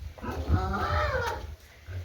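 Farm goats call out at feeding time with one drawn-out, close, loud bleating cry that wavers in pitch for about a second and a half.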